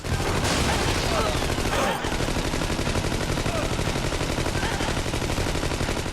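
Rapid, continuous automatic gunfire from the video game Wolf of the Battlefield: Commando 3, loud and relentless for the whole stretch, with a brief shift in the din early on.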